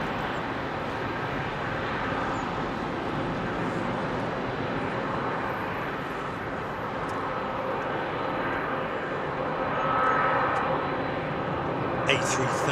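Jet engines of an ex-KLM Boeing 747 freighter at Heathrow, a broad continuous roar heard from a distance that swells slightly toward the end.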